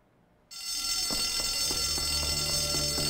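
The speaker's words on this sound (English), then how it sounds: "When all else fails, rip that fire alarm." A fire alarm in the Bully video game bursts on after a brief quiet and rings continuously and loudly, with a shrill sustained tone and a steady bell-like clatter beneath it.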